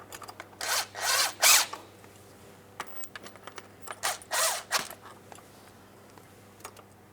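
Short bursts from a power tool driving bolts into the harmonic balancer of a 2004-2008 Pontiac Grand Prix 3.8L V6, with two clusters of whirring runs separated by quieter clicks and handling noise, close up.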